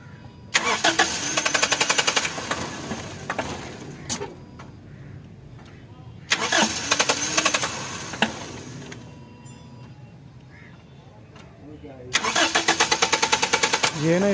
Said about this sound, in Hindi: गाड़ी जो है ना बहुत ज़्यादा लंबा सल्फ ले रही है और स्टार्ट होने का नाम ही नहीं ले रही।